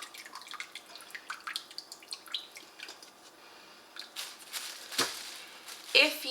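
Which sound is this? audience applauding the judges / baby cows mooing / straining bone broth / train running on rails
straining bone broth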